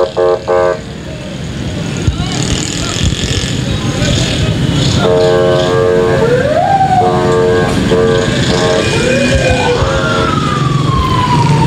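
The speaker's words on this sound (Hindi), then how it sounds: "यहाँ पे पुलिस की गाड़ी आ रही है" Police vehicle on a market street with its siren approaching, wailing tones rising and falling over loud traffic and crowd noise, with voices talking underneath.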